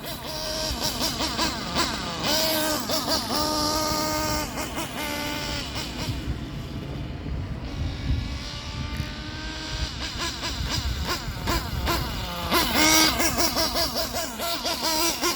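A nitro RC buggy, an Ofna Hyper 7 with a Hyper 3-port turbo engine burning 33% Traxxas Top Fuel, runs loud and close, a high buzzing whine rising and falling with partial-throttle blips throughout.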